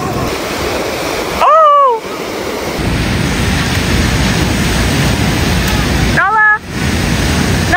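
Ocean waves washing onto a beach, a steady broadband surf roar filling the whole stretch, with a couple of brief excited shouts from a woman cutting in over it.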